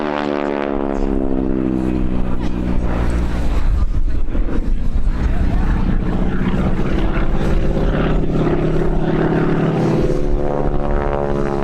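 North American Aviation propeller aircraft with a 600-horsepower radial engine flying past at an air show, a loud droning roar whose pitch sweeps down then up as it passes, steady and close throughout.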